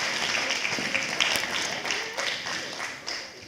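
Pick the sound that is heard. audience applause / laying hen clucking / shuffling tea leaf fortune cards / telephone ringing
audience applause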